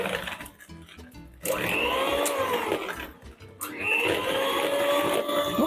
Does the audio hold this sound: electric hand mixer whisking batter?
yes